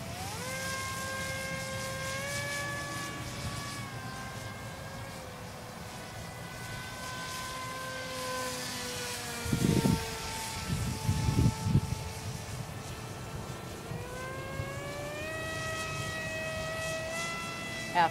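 A remote-controlled model airplane's engine whines thinly from a distance, its pitch sliding up and down as it flies. Brief rough gusts break in midway.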